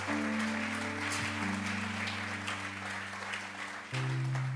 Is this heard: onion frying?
no